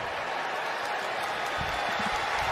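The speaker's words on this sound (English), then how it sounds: "you're going to hear this crowd go crazy with the calls from Sean Hockley" Stadium crowd at an NFL game between Kansas City and the Ravens roars and applauds, a dense wash of cheering that swells toward the end.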